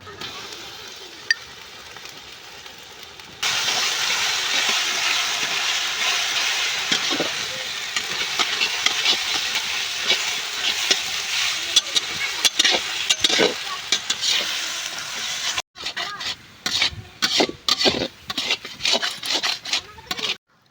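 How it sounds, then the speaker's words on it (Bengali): Onions fry in a pan for an outdoor village picnic, a loud steady sizzle running under repeated scraping and stirring strokes that grow choppier near the end. "পেঁয়াজগুলোকে ভালো করে ভেজে নেব।"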